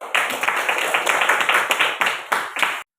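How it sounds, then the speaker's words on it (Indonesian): A classroom of students claps together for the first discussion group, a dense burst of many hands close by that keeps going in uneven waves, then cuts off abruptly. "Mari kita tepuk tangan untuk kelompok 1"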